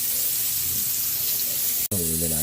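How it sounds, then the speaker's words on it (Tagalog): Carrots fry in butter in a pan with a steady hiss and sizzle. A brief break near the end is followed by a voice speaking over the frying. "Iprito na natin yung carrots sa butter"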